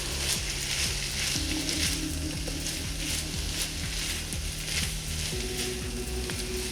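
Asian noodles frying in a pan sizzle steadily and loudly, with rhythmic scraping strokes as they are stirred, close up.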